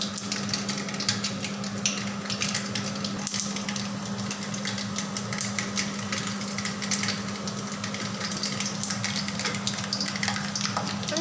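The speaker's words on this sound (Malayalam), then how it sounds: "കടുക് പൊട്ടി വരുമ്പോഴത്തേന് 4 വറ്റൽമുളക് ഇടുകയാണ്." Mustard seeds and four dried red chillies sizzle in hot oil for a Kerala-style chicken curry, giving a continuous, close, crackling fry with scattered pops and no voices.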